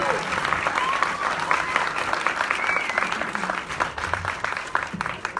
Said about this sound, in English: Round of applause, guys. Keep it going.